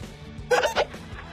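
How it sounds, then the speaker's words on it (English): A cartoon character hiccups twice in quick succession, two short, loud, squeaky bursts over a faint, quiet background. "He has the hiccups."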